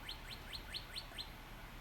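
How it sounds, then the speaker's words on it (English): Birds outside an open window chirp in a quick series of about six faint, high, rising notes, evenly spaced, heard distantly indoors over a soft background hiss. "so you can hear maybe hear the birds chirping."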